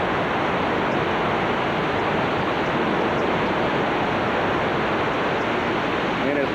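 Hurricane Katrina floodwater in East Gulfport, Mississippi, a continuous loud broadband rush of water and storm wind, steady and unbroken throughout.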